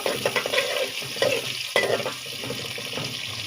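Onions frying in a pan for chicken biryani made with ordinary rice, a dense sizzle with stirring scrapes and a few louder bursts as the pieces are moved.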